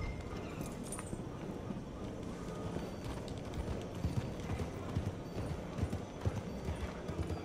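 Horse hooves clip-clopping in a steady galloping rhythm in Red Dead Redemption 2, close and continuous over game ambience, with a brief whinny.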